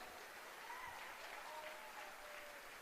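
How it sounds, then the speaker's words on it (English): An audience at a motivational speech in Las Vegas applauds, a faint, even patter of clapping sustained throughout, heard from a distance with no voices over it. "give yourself a big round of applause for making that choice."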